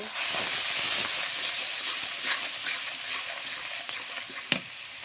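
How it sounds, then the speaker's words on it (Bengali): Spice paste with salt and turmeric, cooked for an egg and potato curry, sizzles and hisses steadily in a pan, with soft scraping and a sharp clack of the spoon near the end. "দিয়ে মশলাটা ভালোভাবে কষিয়ে নেব"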